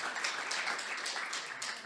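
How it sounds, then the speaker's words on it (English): Audience applause for a panel at a press freedom report launch in Brussels, steady soft clapping from a seated crowd, even and continuous throughout. "if we can have another round of applause for this panel"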